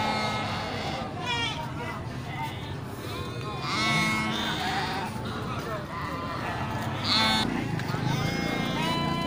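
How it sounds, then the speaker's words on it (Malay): Sheep and goats bleat repeatedly at the Grogol livestock market, ewes and does kept for breeding, amid crowd noise and steady talking. "domba dan kambing-kambing betina ya untuk pembibitan"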